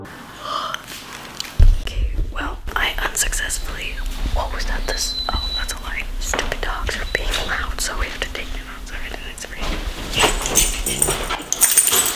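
Dogs indoors in an early morning home setting give soft whimpers, snorts and a few brief yips, close by, amid whispering and low household noise.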